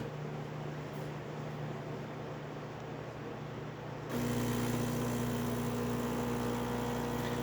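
A Gaggia espresso machine pulls a test shot after a new valve and full service: a steady pump drone and hiss that abruptly rises louder and fuller partway through, then keeps running.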